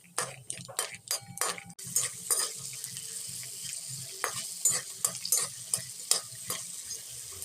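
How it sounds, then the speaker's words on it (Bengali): A handful of peanuts sizzles and fries in hot mustard oil in a wok over a low-to-medium flame, with sharp clinks and scraping as they are stirred, steady crackle underneath. "এবার লো টু মিডিয়াম ফ্লেমে চিনেবাদামটাকে ভেজে নেব।"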